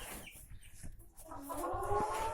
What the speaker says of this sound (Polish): Tu drugi kogut.